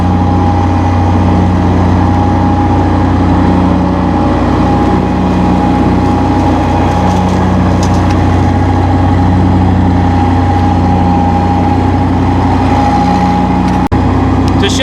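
A Massey Ferguson GC1723E sub compact tractor with a mid-mount mower deck runs close and loud, a steady droning engine hum with a constant whine and a faint rhythmic pulse throughout.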